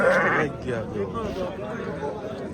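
Sheep bleating at a livestock market in Tepaqo'rg'on, Namangan, a short loud bleat up front followed by a busy crowd of voices and further bleats.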